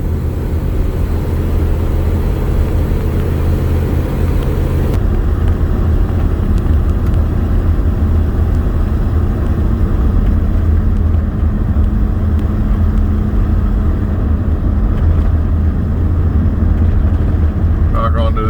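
A Chevy pickup truck drives along a dirt road, its engine and road noise a loud, steady rumble that fills the whole stretch without letup.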